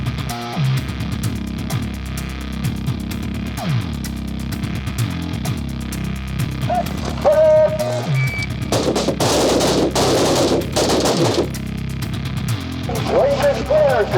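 Gunfire on a shooting range under a range officer's commands, a string of sharp shots mixed with busy background noise, with a louder burst of reports near the middle and voices talking throughout.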